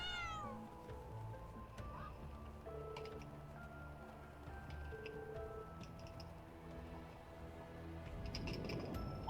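Cat meowing in the video game Trails of Cold Steel IV, a few short mews at the start over a steady game music track with ticking and chiming tones.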